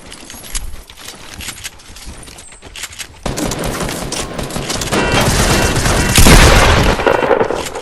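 Rapid video-game gunfire from shotguns, loud and dense, with bursts of blasts building in intensity toward the end and no talking.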